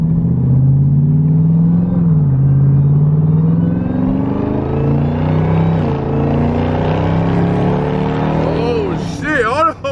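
A tuned Jeep Trackhawk's engine pulls hard on a short test drive, a loud close rising drone that climbs steadily in pitch, with a brief sharp shift near the end.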